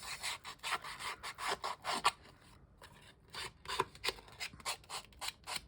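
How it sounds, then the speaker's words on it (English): Repeated rasping strokes of a sanding disc against a small piece, in quick uneven bursts with a brief pause midway, close and fairly loud. "just kind of sand it up a little"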